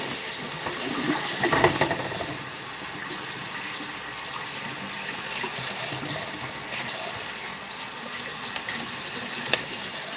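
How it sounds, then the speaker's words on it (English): Water runs steadily from a tap for several seconds, a continuous hissing rush with a few brief louder splashes near the start. "We got the water going."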